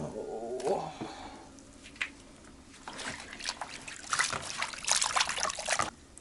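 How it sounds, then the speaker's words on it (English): Beef pieces being washed in water in an outdoor village kitchen in Kenya, with irregular splashing and trickling that grows busier and louder toward the end, close by and with no talk over it. "Done cutting the beef into smaller pieces, so I want to wash them like this."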